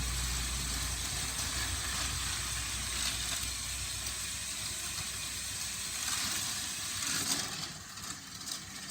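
Motorized LEGO roller coaster cars running on a track in a LEGO City amusement park setup, giving a steady whirring, rumbling drone that holds at a constant level throughout.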